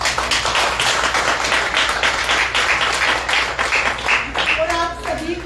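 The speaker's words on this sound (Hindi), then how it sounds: "तो मैं चाहूंगी सभी सीनियर्स के लिए जोरदार तालियां।" An audience applauds the seniors at a Women's Day office programme in Gurgaon, with dense steady clapping from many hands that thins near the end as a voice begins to speak.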